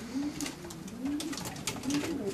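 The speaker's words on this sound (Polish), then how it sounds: "są najwspanialsze gołębie, jakie w ogóle kiedykolwiek się przewinęły przez gołębnik od Jeffa Turniera." Pigeons in a racing pigeon loft coo softly and repeatedly, rounded low calls rising and falling close by, with faint rustling and background hum around them.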